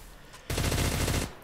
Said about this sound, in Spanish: Esto lo puedo hacer con la ametralladora